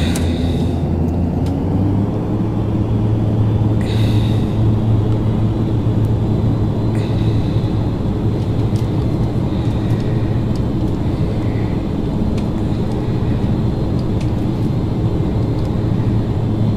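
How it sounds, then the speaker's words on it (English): Steady droning roar of ATR 72-500 turboprop engines at full takeoff power in a flight simulator, a loud continuous whir and rumble with a few faint tonal beeps and clicks over it. "Full throttle, takeoff."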